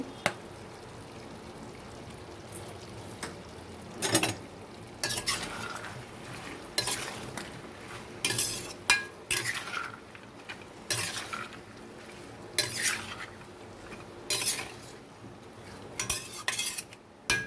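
Soaked chickpeas and slit green chilies fry in a pan while a utensil stirs and scrapes in repeated bursts over a steady low sizzle, close and fairly quiet, with no talking.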